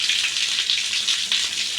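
Water running hard from a bathroom basin tap in a common toilet-bathroom, a steady loud hiss and spatter with slight surges, close by and with no talk over it.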